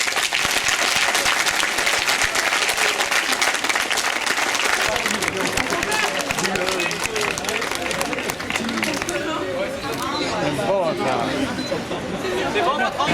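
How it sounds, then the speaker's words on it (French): A large audience at an association gathering at Disney applauds loudly and continuously, dense clapping with cheers and chatter, and voices rising more clearly as the clapping thins toward the end. "on peut les applaudir bien fort parce que c'est grâce à vous"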